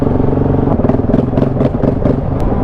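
A Husqvarna 701 motorcycle with an aftermarket exhaust runs loud and close with a throaty, burbling exhaust note, pulsing rapidly in a steady idle-like rhythm.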